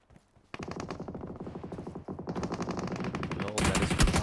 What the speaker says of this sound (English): Tribe Messi is also going to be taking a lot of gunfire.